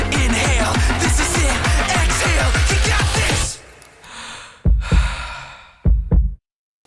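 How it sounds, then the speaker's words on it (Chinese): Sound effects in a produced song: a loud, driving rhythmic musical passage stops abruptly. A breathy sigh follows, then two soft, deep heartbeat thumps, each with a short tail, before silence. "一个叹气加2声心跳声音，接着高潮就要来了"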